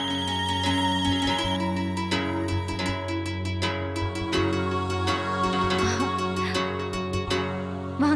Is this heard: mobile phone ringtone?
yes